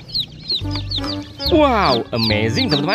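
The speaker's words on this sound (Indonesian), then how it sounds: "Wow, ayam rainbow lagi." A colourful rainbow-dyed chicken clucks and squawks repeatedly at close range, loud and busy, while a person speaks excitedly over the calls.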